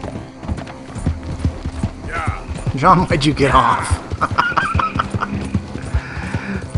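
Horse hooves clopping in Red Dead Redemption 2, a rhythmic trot with a short whinny mid-way, mixed with game effects while a player talks over it.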